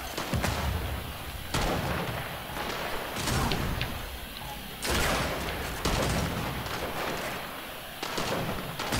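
Bursts of video-game gunfire from Gears of War, several loud, sharp volleys and heavy thuds spaced unevenly through the stretch, with continuous battle noise between them and no talking.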